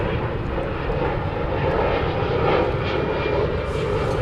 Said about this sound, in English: The UPS A300 is now revving up.